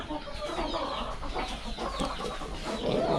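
Native Kerala hens cluck continuously in a busy backyard flock, several birds overlapping at moderate loudness against steady background noise.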